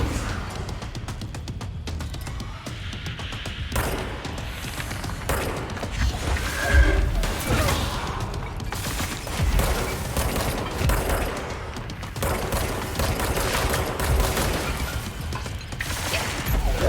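Gunfire in the Control video game as the player shoots at flying enemies, a dense run of repeated shots and mechanical clatter with booms layered through a busy game soundscape.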